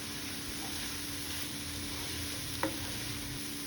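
A cabbage fry with grated coconut and green chilli is stirred in a pan. It gives a steady, soft sizzle, and a single sharp scrape of the spoon cuts through near the end.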